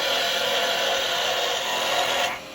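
A carbide chisel cutting wood on a lathe gives a steady, close, loud rasping hiss as the tool rides the bevel along a spinning hand-sander blank, then cuts off abruptly near the end with no talk.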